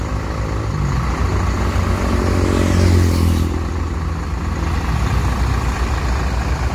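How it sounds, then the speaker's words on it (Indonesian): A Sinar Jaya SR3 Suites Class coach bus rolls along the road into Palembang with a steady, loud engine drone and low rumble that swells near the middle of the clip, then settles. No one speaks. "Kayaknya rolling terus ini bus Sinar Jaya untuk masuk kota Palembang."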